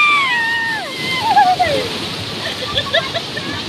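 Strong rushing water flowing beside a riverside spot, a broad steady roar with splashes, while people talk and exclaim over it nearby.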